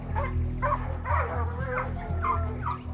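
A pack of hunting dogs bays and barks while chasing a boar during a hunt in France, giving repeated overlapping yelps and howls that sound fairly close over a steady low rumble.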